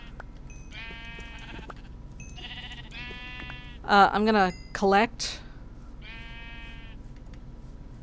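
Sheep in the Minecraft video game give a few wavering, buzzy electronic bleats, some layered close together, over a soft steady game background while someone talks briefly.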